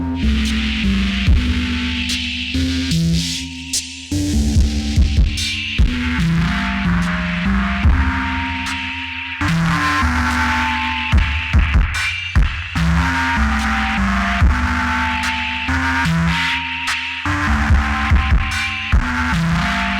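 Layered OP-1 Field synthesizer tones with bright, metallic upper content over a steady low drone, playing continuously with rhythmic pulsing swells and brief dropouts, loud and alone.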